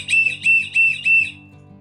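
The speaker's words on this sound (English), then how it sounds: "Then we've got our S.O.L. whistle. Slim Rescue Howler." A slim plastic S.O.L. Rescue Howler survival whistle gives four short, shrill, warbling blasts in a steady rhythm, close and loud, with no talking.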